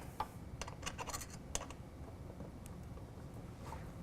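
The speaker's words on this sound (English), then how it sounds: "Tighten down all four of those Allen head bolts." Allen head bolts being tightened with an Allen wrench while fitting a BAKFlip FiberMax tonneau cover on a Honda Ridgeline: faint, close scratchy clicks and ticks in quick irregular bursts, then quieter rustling.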